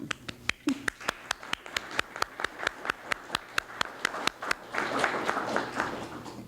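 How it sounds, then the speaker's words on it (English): Scattered hand claps from a small audience at a community health survey meeting in Chemical Valley, starting as a few distinct claps at a steady pace, then thickening into fuller applause near the end. The room is moderately close and otherwise quiet. "For all of those who helped us, please, let's applaud them."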